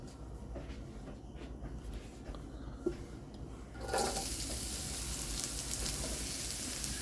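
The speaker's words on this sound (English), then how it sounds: "Put a little avocado oil in there. Wanted to heat up for my onions and peppers." Onions and peppers hit hot avocado oil in a pan partway through, setting off a loud, steady sizzle that follows a few seconds of low rumbling room noise with a small clank.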